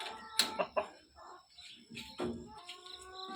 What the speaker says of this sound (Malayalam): ഇതാ കോഴിക്കൊക്കെ തീറ്റയും വെള്ളവും ഒക്കെ കൊടുക്കുന്നുണ്ട്